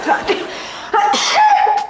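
Close, loud sneezes from a woman with a cold indoors, a short burst followed by a stronger sneeze with a trailing exhale.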